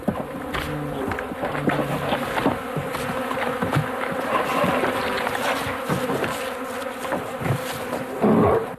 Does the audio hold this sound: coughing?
no